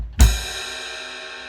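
A single drum kit hit lands with a deep bass drum thump and a crash, then rings out and decays steadily as a long cymbal wash. It is played alone with no voices, part of an intro leading into a jazz beat.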